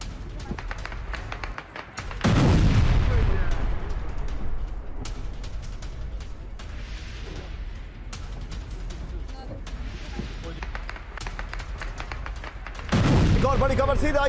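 Explosions near a residential building in attack footage: two loud, sudden blasts, one early and one near the end, with rumbling noise and a voice in between.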